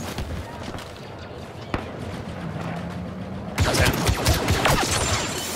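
Pistol fire in the Star Wars Battlefront 2 open beta on PS4 Pro: scattered sharp shots at first, then a loud, dense burst of rapid cracks and impacts amid busy game noise.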